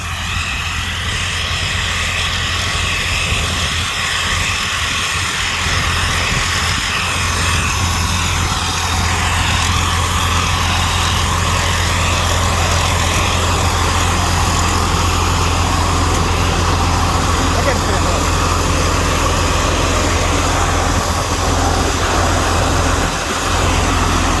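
A rice combine harvester from a Thai workshop runs steadily while cutting RD85 rice in the field, its engine a loud, continuous drone with a constant mechanical hum and rattle throughout, with no voices.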